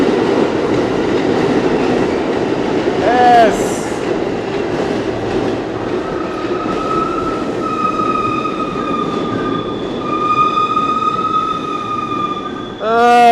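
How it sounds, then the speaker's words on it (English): An NYC subway train rolls into an underground station, a loud rumbling and rattling build with shrill squeals of wheels and brakes near the start and end, with a brief spoken word. "Our train 1 minute away."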